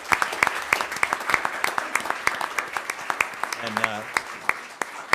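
A Board of Education meeting crowd applauding students and staff, sustained clapping with distinct sharp claps close by, while a voice briefly speaks over it near the end.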